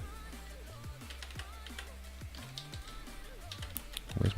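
Computer keyboard typing during a live coding session on Azure templates, quick irregular clicks running steadily under a speaking voice, close and moderately quiet.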